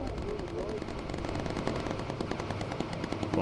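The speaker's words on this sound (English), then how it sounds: "Focus fire with incendiary." Rapid, continuous machine-gun fire from a bomber's gunner shooting at enemy fighters in the video game Bomber Crew, a dense loud rattle lasting the whole few seconds.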